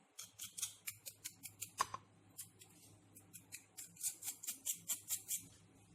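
Crispy fried okra (bhindi) snaps and crunches as a piece is broken by hand, a quick series of sharp, close crackles in two bursts separated by a brief quieter pause.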